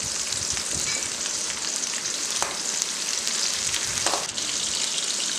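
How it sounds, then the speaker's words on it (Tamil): Tomatoes and green chillies sauté in oil for a fish curry, giving a close, steady, dense sizzle with a couple of brief stirring clicks. "கட் பண்ணி வச்சுருக்கிற தக்காளி சேர்த்துக்கோங்க. நல்லா வதக்கி விடுங்க."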